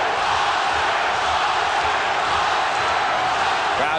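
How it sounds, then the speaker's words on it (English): A boxing arena crowd chanting a fighter's name, a loud, dense roar of many voices filling the space steadily from start to finish. "Crowd chanting, Oscar, Oscar,"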